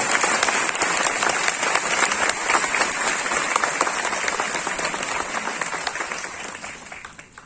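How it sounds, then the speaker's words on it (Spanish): A parish congregation at a servers' retreat gives a big round of applause, a dense, energetic clapping from many people that holds steady and loud, then fades toward the end, with no speech over it. "dale un gran aplauso a ese Dios que quiere que todos los hombres se salven"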